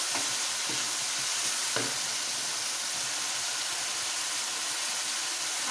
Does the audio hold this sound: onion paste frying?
yes